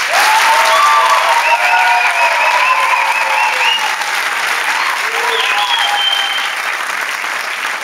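Studio audience applause on a Turkish comedy talk show, loud sustained clapping from a crowd that gradually eases slightly, with a few whistles and cheers mixed in.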